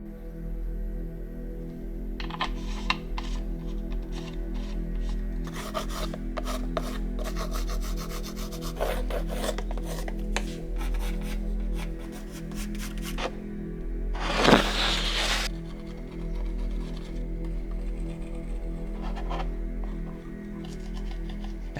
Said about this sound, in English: for sanding I use a regular nail file